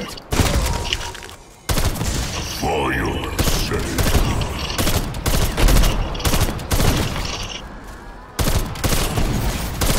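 Sustained bursts of gunfire while shooting zombies in Call of Duty Zombies, dense repeated shots filling the whole stretch with brief gaps, loud and close, with players talking underneath.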